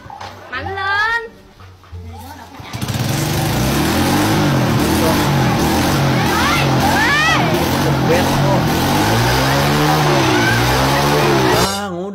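A ZX motorcycle engine is revved hard and held at a loud, sustained roar close by for several seconds, with voices talking before and over it.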